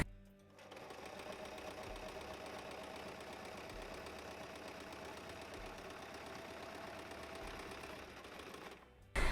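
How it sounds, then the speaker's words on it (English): A sewing machine runs steadily, stitching the shoulder and side seams of a soft-fabric pirate costume. It whirs continuously and evenly for about nine seconds, close and with no talking, then stops at the end. "Now I'm going to sew it right sides together along the shoulders and side seams."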